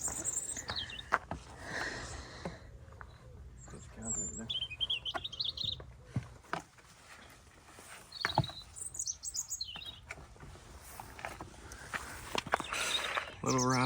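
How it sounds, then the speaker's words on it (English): A robin tweets overhead in the Cotswolds countryside on a hiking trail, its short high chirps scattered between footsteps and someone talking nearby. "Little Robin up there tweeting at us."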